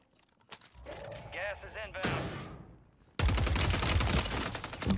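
Gunfire in the video game Warzone 3: a close burst of rapid automatic shots, a pause, then a loud sustained volley of shots through the end, alongside other game effects.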